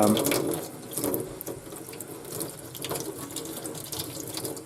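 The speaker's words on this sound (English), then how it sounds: "I'm going to rinse that off. And you can use these clay pebbles again" Clay pebbles being rinsed under a running tap into a sink, a steady broadband splash of water with pebbles shifting and clattering, close and fairly loud throughout.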